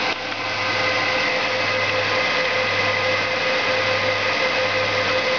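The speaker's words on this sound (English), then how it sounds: "Then my server starts right on up" A home network server powering up with its 120mm front fan and DVD-ROM drive, giving a steady, loud whirring hum that holds evenly throughout after a brief start.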